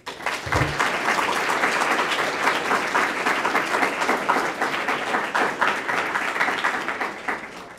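An audience applauds steadily and loudly to welcome a political science professor onto the stage for an evening talk, the dense clapping sustained for several seconds before tapering off at the end.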